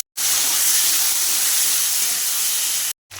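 Cut potatoes and tomatoes dropped into hot mustard oil left over from frying fish hiss and sizzle in a loud, steady wash of noise, with a brief break just before the end.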